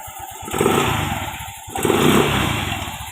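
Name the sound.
Yamaha Mio i 125 scooter engine running with new slider piece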